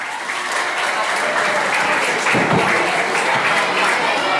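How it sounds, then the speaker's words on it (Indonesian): Loud, sustained applause from an audience at a Maulid Nabi celebration, dense steady clapping filling the whole stretch. "sekali lagi tepuk tangannya"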